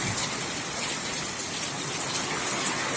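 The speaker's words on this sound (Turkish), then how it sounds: "Acayip bir yağmur başladı arkadaşlar." Steady, dense downpour of heavy rain hissing continuously on surfaces, loud and unbroken throughout.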